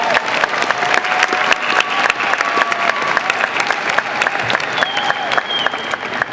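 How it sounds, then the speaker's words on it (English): A graduation audience gives loud, sustained applause for master's students at a university hooding and diploma ceremony, many hands clapping densely with a few whoops and cheers rising above. "please join me in a round of applause for the Master of Science in Public Policy and Management"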